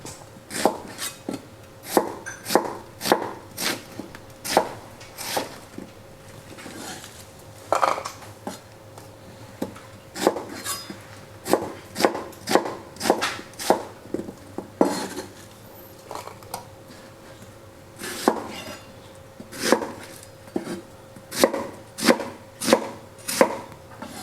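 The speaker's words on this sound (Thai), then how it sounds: "เดี๋ยวหั่นหอมใหญ่ไว้ก่อนครับ" Knife chopping onion on a wooden cutting board while preparing stir-fried venison with black pepper, a steady run of crisp close taps in quick bursts with short pauses, no talking.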